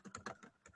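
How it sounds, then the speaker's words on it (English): Rapid typing on a computer keyboard, with a quick run of soft, close key clicks and no talking. "Tell it to us while you're typing."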